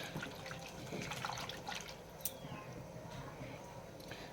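Tomatoes are washed in water with a soft, continuous splashing and trickling, close by and quiet, with faint sloshes and drips.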